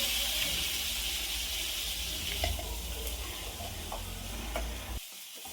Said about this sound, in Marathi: इथे मी आता कांदा टाकून घेत आहे